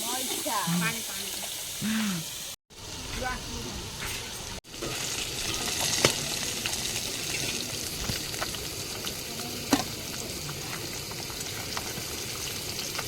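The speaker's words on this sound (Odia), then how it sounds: "ଏପଟେ ମାଛ ଭଜା ଚାଲିଛି ଆଉ ଏପଟେ ମସଲା କଷା ଚାଲିଛି ମଟନ ପାଇଁ।" Fish sizzling and frying in a pan in a home kitchen, a steady crackling hiss with occasional clinks and stirring, people chatting over it.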